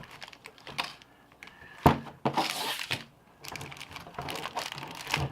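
A ZOMEI tabletop tripod slides out of a plastic bag, giving close crinkling and rustling bursts with a few soft thumps, broken by short pauses.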